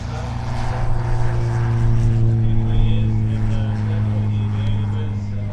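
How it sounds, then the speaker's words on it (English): Light propeller airplanes arriving at the EAA AirVenture Oshkosh airshow, a loud continuous engine drone with steady propeller hum that swells slightly as aircraft pass. "we still have plenty of planes coming in"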